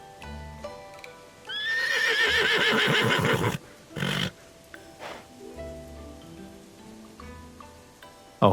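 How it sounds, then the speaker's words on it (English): A horse in the video game Love and Deepspace lets out a loud, drawn-out whinny, followed by snorts and hoof sounds, set against quiet ambient game music. "A horse like this shouldn't be kept as some ornament for a tavern owner."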